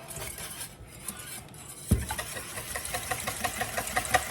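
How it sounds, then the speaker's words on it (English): A whisk beats milk, egg and Dijon mustard together in a bowl for a quiche, starting with a sharp knock and then settling into a steady, rapid clinking close by. "I'll whisk this up really well."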